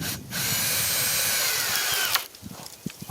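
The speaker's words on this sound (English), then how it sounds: "Let's drill it out." A power drill bores into wood while framing a sawmill shed, its loud, continuous whine running for about two seconds before cutting off, followed by a few close handling knocks.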